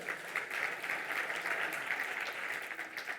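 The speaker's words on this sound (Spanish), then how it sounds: "También un aplauso para ella." Conference audience at an insurance-industry economic convention applauds, a steady, dense patter of many hands, fairly faint and continuous throughout.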